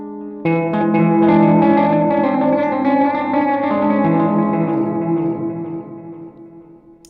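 An electric guitar chord rings through a Gecko echo pedal emulating an Echoplex tape echo, starting abruptly and sustaining with warm repeats and a wavering chorus-like texture before slowly fading out.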